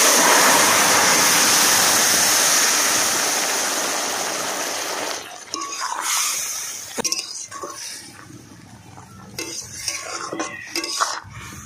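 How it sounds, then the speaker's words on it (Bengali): Ivy gourd leaves (telakucha greens) drop into hot oil with turmeric and spices, setting off a loud, rushing sizzle that gradually dies down, followed by metal spatula clinks and scrapes against the pan. "এবারে শাকটা ফোড়ন দিয়ে দিচ্ছি"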